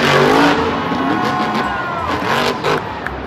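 Toy monster truck with a revving engine-like motor sound, a steady whining roar with rising and falling pitch sweeps. It plays loud and close throughout, with no talk.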